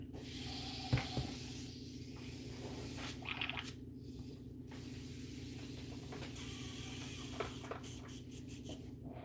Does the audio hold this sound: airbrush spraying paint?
yes